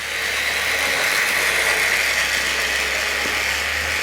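A Tri-ang RS8 Midlander model train set runs round its track with a steady mechanical whir and ratcheting clatter, continuous and close with no voices.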